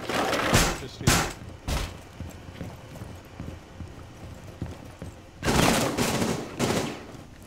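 Bursts of gunfire in Rainbow Six Siege, with several sharp shots early on and a denser rattling volley later, heard at moderate distance between quieter stretches.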